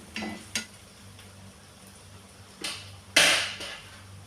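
Onions and green chilies being cooked lightly in a pan for a pizza topping: a faint sizzle under a few sharp clinks and scrapes of a utensil against the pan.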